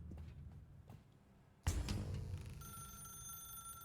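A telephone in The Stanley Parable video game starts ringing abruptly after a quiet, murky stretch, then holds a steady electronic ring tone that carries on to the end.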